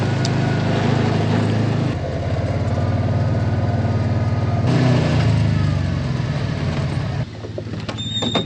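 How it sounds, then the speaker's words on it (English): Steady low engine rumble of road traffic near a farm, with vehicles passing close by in overlapping waves and one passing swell in the middle before the noise drops away. "there's a lot of traffic on the road today"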